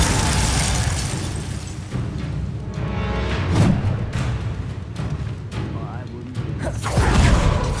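Bombarda spell explosions in the wizarding game Hogwarts Legacy, loud booming blasts and bursts layered over dense combat noise and whooshes, with battle shouts and voices throughout.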